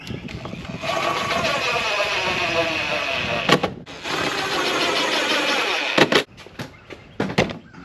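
A pneumatic air gun runs bolts back in with whirring, rattling bursts, loud and close, pausing between fasteners and finishing with short sharp hits.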